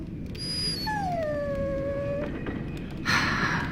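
A dog in the video game Dragon Age: Origins lets out a drawn-out, falling whine, close and plaintive, followed moments later by a shorter high whimper.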